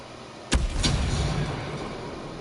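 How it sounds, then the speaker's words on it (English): A grenade goes off in a PS4 video game: one sharp, heavy blast with a second thud just after, then a rumbling decay under steady background noise. "I'm going to throw a grenade in there, see if it shuts off their power."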